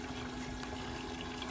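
A small pump runs inside an air-to-water intercooler ice box, producing a steady low hum under watery noise, constant and unchanging across the short stretch.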